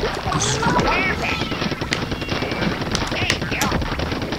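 A weapon in the video game Splatoon 2 fires rapid bursts of close, loud shots with splattering hits, under game effects and a faint voice.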